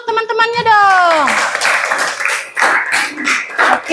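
Students in a classroom clapping for their classmates, a scattered burst of hand claps following a voice speaking, with uneven claps continuing at moderate loudness to the end.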